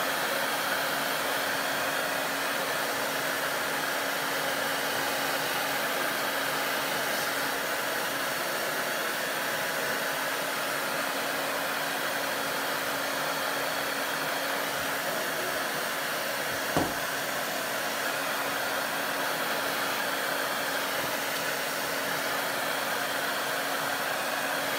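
A hair dryer blows steadily and close for the whole stretch while drying water on a small metal bucket, one brief sharp tap sounding near the end.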